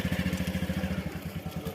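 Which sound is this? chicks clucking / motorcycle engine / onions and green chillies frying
motorcycle engine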